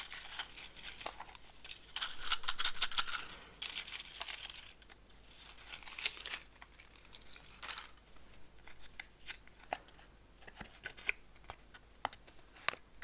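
Paper slips numbered one to twelve being drawn and unfolded, with soft, close rustling and crinkling in short, irregular bursts.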